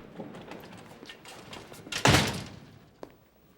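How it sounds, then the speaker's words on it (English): An office door in a police captain's office swings shut with a single loud thud near the middle, followed by a faint click, against a quiet room. "Shut the door."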